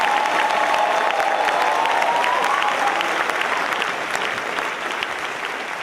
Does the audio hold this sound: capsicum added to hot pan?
no